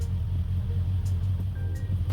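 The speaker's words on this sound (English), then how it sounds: "The idle is almost perfect now, but still slightly floating." BMW 4.6iS V8 engine idling close by with a steady low rumble and a slight, uneven float in its tone, alone with no talk.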